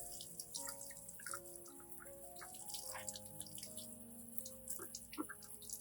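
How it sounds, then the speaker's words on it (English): Orchid roots are rinsed under running tap water, a faint, gentle trickle with scattered drips and splashes and a few tonal ringing notes, alone throughout. "we will rinse the plant thoroughly under running water"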